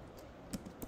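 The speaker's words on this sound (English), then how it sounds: "simply I'm going to type Python requests" A computer keyboard being typed on during a Python setup session, with a few separate soft keystrokes landing over a low, steady room background.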